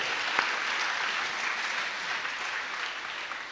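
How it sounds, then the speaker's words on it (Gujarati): An audience at a women's association religious gathering in Mundra claps warmly, a dense steady applause with no voices. "એનો અમે બધાએ ખૂબ તાળીઓથી વધાવીને આનંદ વ્યક્ત કર્યો"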